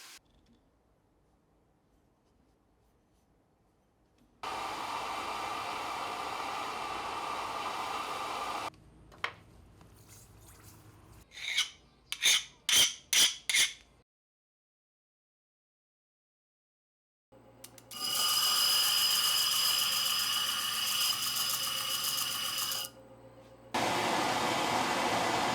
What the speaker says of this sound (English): I'm going to go ahead and clean it up on the belt grinder.